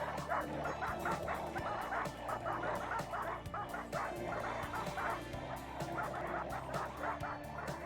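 Several Labradors at a boreal forest camp keep up a continuous mix of yelping barks and honking whines, near and busy throughout, with no clear gaps.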